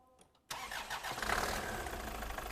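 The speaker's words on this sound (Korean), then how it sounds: "자, 그럼 시동 한번 걸어주세요." A car engine cranks and catches at a workshop during an exhaust pressure sensor check, then settles into a steady, loud idle close by after a quiet moment.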